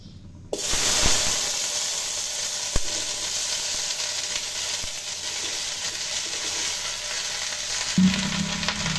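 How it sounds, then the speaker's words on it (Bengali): Food hits hot oil with a sudden burst, then a loud, even sizzle continues without a break, with an occasional stir or clink. "তেলটা গরম হয়ে আসছে, এবার আমি ঢেঁড়সগুলো ঢেলে দেব।"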